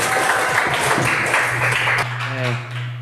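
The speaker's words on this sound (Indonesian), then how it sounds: "Boleh tepuk tangan semuanya." A crowd applauds with dense, steady clapping for about two seconds, then it fades into quieter background noise.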